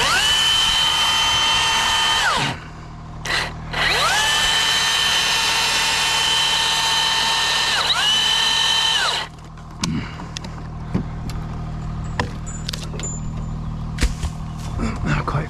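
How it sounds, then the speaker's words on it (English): A Milwaukee battery-powered top-handle saw cutting, a loud, close, high whine in two sustained runs with a brief pause and spin-down, followed by quieter knocks and handling noise. "we're working with our Milwaukee battery saws"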